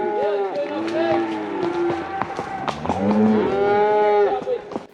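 Cattle being driven along a trail through deep timber moo repeatedly, several long, loud bellows close by and overlapping, with other livestock noise and movement in the background.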